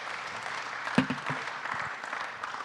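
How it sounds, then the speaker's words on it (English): A conference audience gives a short burst of applause for a professor, a brief wash of clapping with a few sharper claps, fairly faint and fading quickly. "I think you should give him a round of applause."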